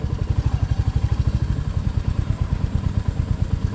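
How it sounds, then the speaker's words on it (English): A motorcycle engine blipping and throttling during a rider training course, a rapid pulsing mid-pitched clatter and chug, close and steady throughout. "I gotta keep my throttle going, man"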